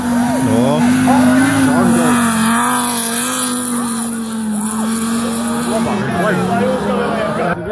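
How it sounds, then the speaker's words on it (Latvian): A rally car climbs a hill at the Gaiziņš auto race, its engine note rising and falling through gear changes. The engine is loud and continuous under steady commentary for most of the clip. "viņš brauc šobrīd augšā kalnā, lido vienkārši kā raķete"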